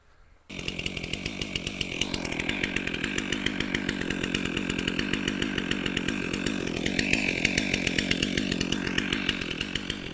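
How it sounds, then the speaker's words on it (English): A chainsaw runs steadily at high revs after a brief quiet start, its loud engine drone grinding continuously as it cuts through a tree stump. "I'm going to go on and take the chainsaw and cut it off."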